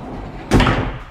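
A door in a shed converted into a house opens with a single sudden thump and rattle that fades over a fraction of a second, followed by a faint knock.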